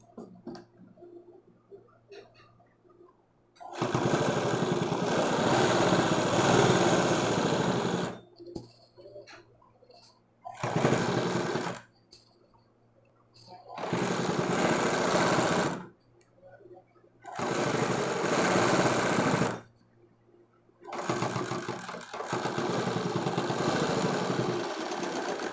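A sewing machine stitches piping onto a collar-neck blouse in several bursts of fast, rhythmic whirring, separated by short pauses, and one brief burst is quieter than the rest.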